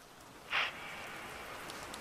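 Steady rain in a video game hisses as a soft, even wash of noise, with a brief brighter splash or burst near the start, quiet and continuous with no talking.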